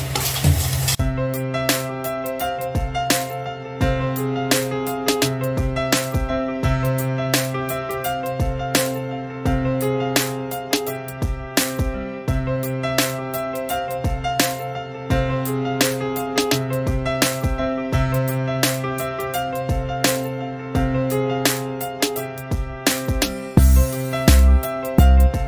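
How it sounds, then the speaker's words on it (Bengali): Pointed gourd (potol) frying in a pan in a small home kitchen, a steady sizzle running throughout with frequent sharp clinks and scrapes of stirring, close and fairly loud. "এই যে এখন হচ্ছে পটল ভাজা।"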